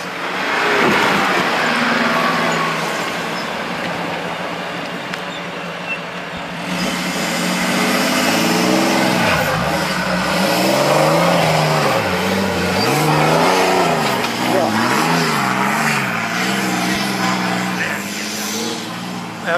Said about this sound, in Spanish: Como va el motor Mercedes